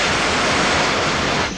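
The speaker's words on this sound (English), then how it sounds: "He's now going straight through the hole and spraying a fine mist of water into the room" A cutting extinguisher drives a fine water mist through a hole into a burning room, giving a loud, steady, broad hiss that holds evenly and drops off right at the end.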